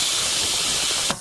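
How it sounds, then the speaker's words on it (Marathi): A pressure cooker of mutton vents steam in a loud, steady hiss that fills the whole clip, then cuts off abruptly with a brief sputter at the end. "आता 3 शिट्ट्या देणार आहे।"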